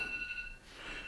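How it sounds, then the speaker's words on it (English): A phone alarm beeps in a short, faint burst of steady electronic tones, heard alone and close by. "That was my alarm to get on the road"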